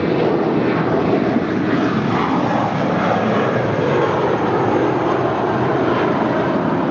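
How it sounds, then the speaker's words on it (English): An American Airlines Airbus A320, about 22 years old, departs Los Angeles International for Las Vegas, its jet engines a loud continuous roar close by with no voices. "It's a 22-year-old Airbus A320."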